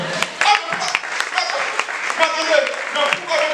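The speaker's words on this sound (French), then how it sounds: "Alléluia, acclame le Seigneur." A church congregation applauding in praise, dense irregular clapping mixed with voices and cheering, moderately close and sustained for a few seconds.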